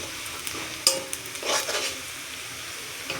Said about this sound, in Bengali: ভালো করে মশলাটা নেড়ে নেব।